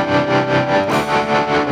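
Distorted electric guitar runs through a volume effect placed before the distortion, giving a loud, rhythmic swell-and-dip pulse about every fifth of a second with a slight stutter, and no talking.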